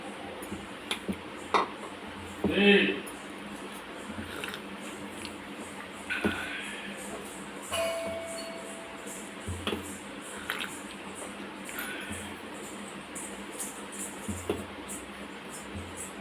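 Jaggery syrup being stirred little by little into cardamom-flavoured flour batter in a home kitchen, with soft wet squishes, faint scrapes and occasional light clinks against a vessel, quiet and close.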